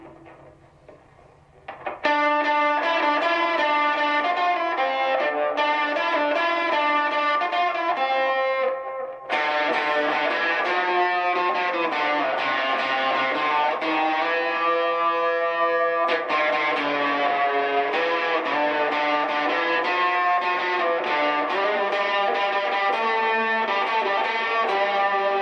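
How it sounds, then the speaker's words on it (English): A Fender Vintera II '70s Competition Mustang electric guitar is played through a fuzz effect, thick distorted chords and riffs ringing loud and close after a quiet start, with a short pause partway through and no talking. "How about fuzz? Let's try a little fuzz."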